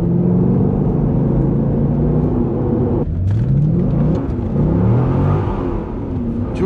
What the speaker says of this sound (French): le moteur on l'entend, mais on n'entend pas l'échappement et c'est ça qui est dommage